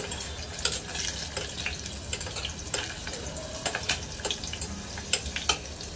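Potatoes for dum aloo fry in a pan with a steady soft sizzle, broken by scattered scraping stirs and light clicks of a spoon, close and moderately quiet, with no talking.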